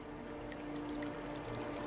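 A waterfall cascades in a steady, even wash of rushing water with a faint hum beneath it. It is soft and continuous, heard alone with no talking.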